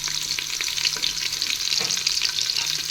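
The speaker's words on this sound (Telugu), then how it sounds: "ఇది కొంచెం ఫ్రై అయ్యే వరకు మనం వెయిట్ చేద్దాం" Onions and green chillies frying with marinated chicken in a pressure cooker give a steady, close, bright sizzle with faint stirring scrapes, no voices.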